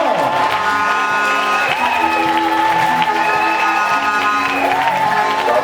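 A church congregation at a Sunday service applauding and cheering, loud sustained clapping with shouts and whoops throughout, while tonal music or singing runs underneath.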